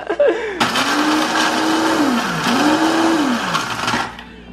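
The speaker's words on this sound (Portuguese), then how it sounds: "Eu coloquei metade dentro desse liquidificador." A loud electric blender whirs close by as it mixes ingredients for a three-ingredient cake, its motor pitch rising and sagging as the load shifts, with a brief voice before it starts.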